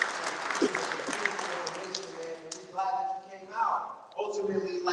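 Men at a monthly community meeting give themselves a round of applause, a wash of clapping mixed with voices and cheering, moderately loud, with a musical tone rising near the end.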